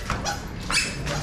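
A dog on the third floor of a residential building gives a few sharp barks, three quick bursts close by against a low background hum.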